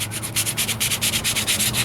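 Hand sanding with 320 grit paper on the wheel arch of a 1998 Ford Ranger, heard as quick, even back-and-forth rasping strokes, close and steady, about a dozen in a row with no talking.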